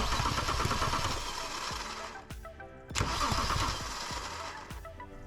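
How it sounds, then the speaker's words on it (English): The starter of a BMW N54 engine, opened up for intake port walnut blasting, cranks the motor over in a steady rapid churn, stopping briefly and starting again, loud and close. "push this button here. And it spins over the motor."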